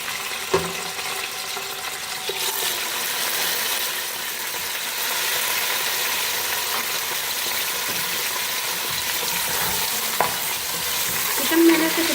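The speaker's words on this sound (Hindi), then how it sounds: "चिकन को पहले फ्राई करके निकाल लेंगे।" About 500 grams of chicken fry in roughly three-quarters of a cup of hot oil for chicken pulao, giving a steady, moderately loud sizzle with occasional stirring clatters and brief sharper pops, with no talk.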